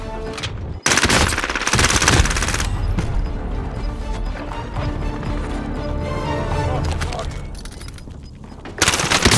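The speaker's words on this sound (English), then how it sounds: "I shot at something!" Rapid automatic gunfire in a video game, loud dense bursts of shots running nearly the whole time with a brief gap near the start and a fresh burst at the end, over a busy game soundscape.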